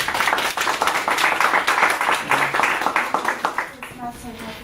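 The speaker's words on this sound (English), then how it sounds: "Please, let's applaud her." An audience at a Toastmasters meeting applauds for several seconds with dense, steady clapping that fades out as a voice begins speaking.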